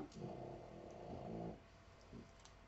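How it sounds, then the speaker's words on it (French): A tired dog snores nearby in an indoor craft setting, a low rumbling breath with a harmonic buzz that runs steadily for about a second and a half, then fades to softer, quieter breathing. "Bon, Toto a débarqué, ça ronfle"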